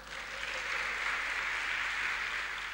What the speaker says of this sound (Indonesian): Tepuk tangan buat Tuhan dong.